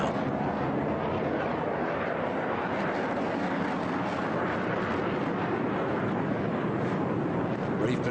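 A fighter jet flies level with its afterburner lit at an air show in Bahrain. It makes a sustained, distant, rumbling roar that holds steady throughout.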